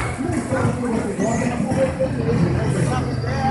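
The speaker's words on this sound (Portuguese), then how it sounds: "O trânsito voltou." Steady roar of city street traffic with buses rumbling past in central Fortaleza, a dense continuous wash of engine noise with a faint murmur of voices underneath.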